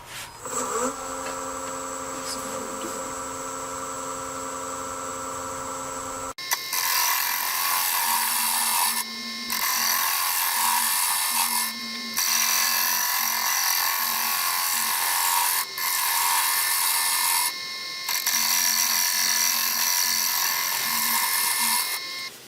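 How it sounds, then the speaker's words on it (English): A 3/4 inch scraper smoothing a small oak bowl spinning on a woodturning lathe: a steady mechanical hum first, then a bright, buzzy scraping rasp in several close, loud passes broken by short pauses. "Scraping that a little bit, smoothing it out. Got a 3/4 inch scraper."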